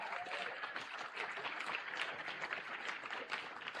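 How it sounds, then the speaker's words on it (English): An audience at a storm chaser hall of fame ceremony applauds as the committee chair comes on stage, a faint, dense, steady wash of clapping with no clear break. "Give him a round of applause."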